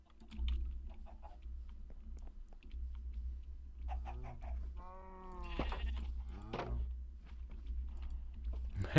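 A single sheep in a Minecraft-style crafting game bleats once in a wavering, mid-volume cry over steady low background hum, with soft keyboard typing clicks scattered before and after.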